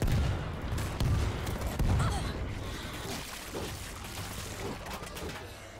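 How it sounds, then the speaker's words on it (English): Bursts of rapid gunfire from the river crackle through a noisy World War Z game soundscape, dense at first and thinning out, with faint background chatter. "We're hearing gunfire from the river."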